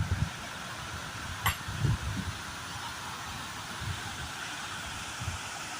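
Kothapalli waterfall gives off a steady, even rush of flowing water that lasts throughout, with a few soft low thumps and rustles near the microphone.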